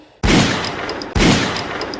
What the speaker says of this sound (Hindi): साहिल ने एक गन उसके सिर पर तानी, यानी कि नैन्सी के सिर पर तानी और 2 गोलियां चला दी